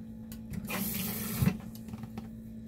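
Tap water running steadily over sliced chili peppers being rinsed in a kitchen sink, a continuous close hiss that swells in the middle and eases off, with no talking.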